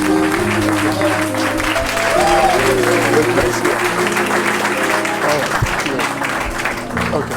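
A church congregation applauds in acclamation of God, sustained clapping from a crowd, loud and steady over the full stretch while a voice speaks over it and music plays underneath.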